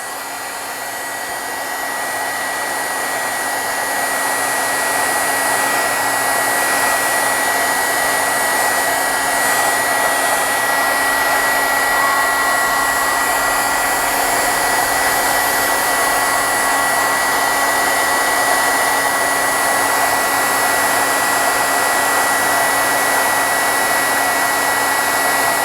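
A hair dryer blows on a board book cover to dry ink, running as a steady, close, continuous whir that builds up over the first few seconds and then holds without stopping.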